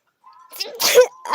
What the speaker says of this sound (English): It feels like I'm gonna have to sneeze again.